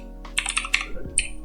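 Quick bursts of keystrokes clatter on a computer keyboard, several short clustered taps close by and fairly quiet, with no talking.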